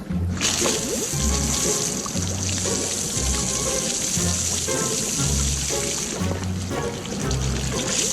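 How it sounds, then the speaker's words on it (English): Water spraying hard onto a garbage truck in a garage wash, a continuous loud hissing rush with a low rhythmic pulsing underneath throughout. "Water sprays, foam covers the whole vehicle."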